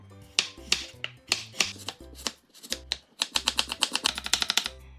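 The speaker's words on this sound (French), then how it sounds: "On coupe la carotte en julienne." A carrot being cut into julienne with a knife on a board, heard as a close, crisp series of sharp chops in an uneven rhythm that quickens into a rapid run near the end, with a low musical backing underneath.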